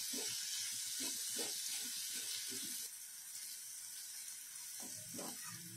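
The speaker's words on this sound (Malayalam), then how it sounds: "സവാള നന്നായിട്ട് മൂത്ത് കുഴഞ്ഞ് നല്ലൊരു ബ്രൗൺ കളറായി കിട്ടുന്നത് വരെ വേണം വഴറ്റിയെടുക്കാൻ." Sliced onions with salt sauté in a pan for a chicken curry, giving a steady, bright sizzle with soft scraping stirs throughout; the hiss drops slightly partway through and continues alone, with no voices.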